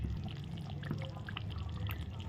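Ghee pouring into a pot of dal in a home kitchen, a soft steady liquid pour with faint drips and sizzle over a low continuous background hum.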